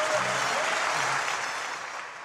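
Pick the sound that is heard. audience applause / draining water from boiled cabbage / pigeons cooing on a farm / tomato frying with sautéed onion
audience applause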